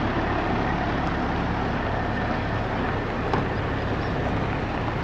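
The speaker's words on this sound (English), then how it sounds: "I thought I heard a big rig coming." A big rig semi truck approaching, heard as a loud, steady, broad rumble that fills the whole stretch with no voices over it.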